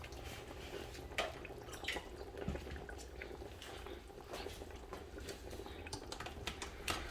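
A pot of plantains for Haitian soup bubbles and simmers steadily at a quiet level, with scattered drips and small liquid pops over a low background hum.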